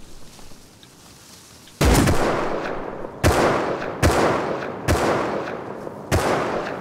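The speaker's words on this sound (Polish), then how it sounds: "strzela ktoś" Gunshots ring out in the survival video game Rust: five loud, booming reports at uneven intervals, each with a long ringing echo that fades over a quiet outdoor background.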